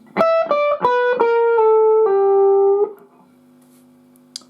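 A distorted electric guitar plays a lick: a run of about eight descending single notes, the last held and ringing out before fading, ending in near silence.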